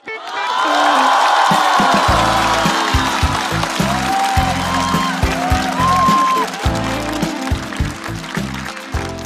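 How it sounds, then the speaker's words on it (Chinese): A live studio audience applauding comedian Song Xiaobao at a roast show: sustained loud clapping and cheering from a large crowd, swelling quickly and carrying on throughout with a few whoops. "来，再次掌声送给宋小宝。"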